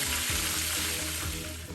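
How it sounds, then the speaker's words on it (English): Buttermilk fried chicken fries in hot oil with a loud, constant crackling sizzle, close up and unbroken, no talking. "we went ahead and finished frying up our chicken"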